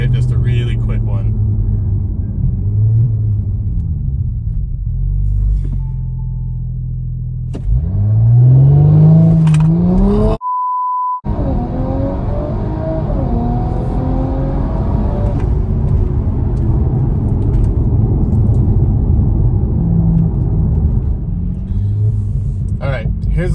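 An Audi B9 S5 with a Stage 1 tune and TCU upgrade launches and accelerates, deep engine rumble rising through the revs with a shift gap, heard from inside the car while a person talks over much of it.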